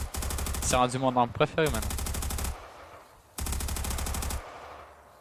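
Rapid machine-gun fire from a Modern Warfare video game mod, loud and close, coming in sustained bursts with a short pause in between, while someone talks excitedly over the first burst.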